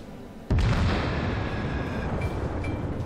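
Battleship main guns fire in World of Warships, the Kawachi in play: one sudden loud boom, then a long rumbling roar that rolls on and fades slowly with some softer crackle.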